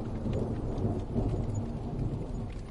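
Steady rain falls with low rumbling thunder, a dense, continuous wash of sound that stays even and fairly loud throughout, with no voices.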